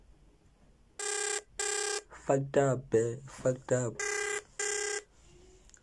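A phone ringtone plays loudly and close: two matching tones, a run of short melodic notes, then two more tones. A voice talks briefly alongside it.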